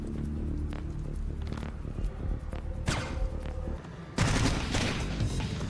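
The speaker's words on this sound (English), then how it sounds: "This guy's blind firing, has no idea where I am" A guard in Splinter Cell blind-fires a gun in a string of scattered shots mixed with game ambience, ending in a louder, sustained burst of gunfire.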